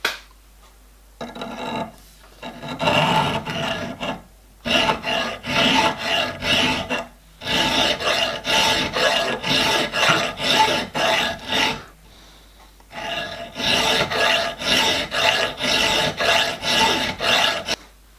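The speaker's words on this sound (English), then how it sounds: "just finish it off with a fine file" A fine hand file rasps across the steel web of a 5-inch gauge steam locomotive crankshaft, in repeated close strokes grouped into bursts separated by brief pauses, with no talking.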